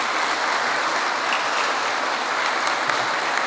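Dense, sustained applause fills a legislative chamber after a deputy's welcome message, a loud, even wash of many hands clapping with no pauses or voices standing out.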